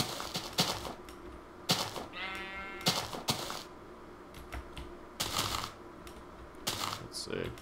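Sheep bleat a few times in Minecraft at nighttime amid clattering, typewriter-like bursts of noise, moderately loud and close.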